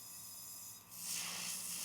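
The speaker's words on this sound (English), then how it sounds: "So spraying out the gun again" An airbrush spray gun blows out paint during nail art work, a soft hiss that swells into a louder, bright continuous spray after a short pause, with no voices.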